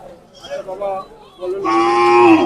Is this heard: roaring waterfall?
no